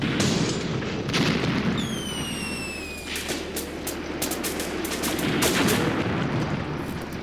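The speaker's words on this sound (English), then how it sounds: "We're getting artillery fire." Artillery and gunfire rumble through the World War II tactics game Graviteam Tactics: Mius Front, a dense layer of distant booms and cracking shots with whistling sounds that falls and rises, no voices over it.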